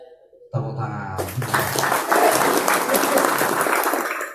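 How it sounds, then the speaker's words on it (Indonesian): A crowd breaks into loud, sustained applause after a brief quiet moment, steady clapping filling the room until the end. "Tepuk tangan."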